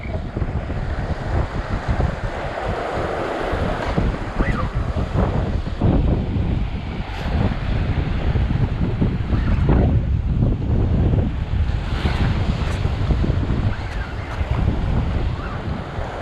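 Big ocean swells and breaking waves around a boat while striper fishing, a constant heavy wash and rumble with wind buffeting the microphone, loud and continuous throughout.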